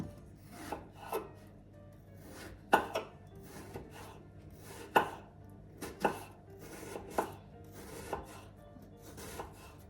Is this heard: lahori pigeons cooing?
no